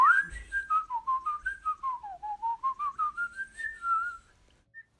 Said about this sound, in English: I bet the boys and girls are trying to whistle too.